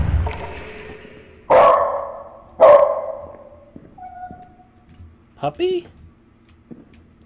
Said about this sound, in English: Puppy! I guess that was my actual dog then.